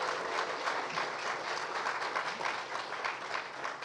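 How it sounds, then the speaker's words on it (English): An audience applauds panelists at the close of a panel discussion on climate change news coverage, with dense, steady clapping that holds for about four seconds and no voices over it. "How about a round of applause for our panelists?"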